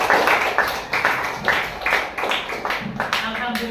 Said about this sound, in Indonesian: kita tepuk tangan buat kalian semua